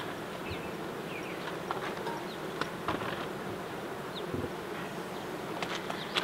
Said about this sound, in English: they're flapping their wings and causing the noise so they can cool off the inside of the hive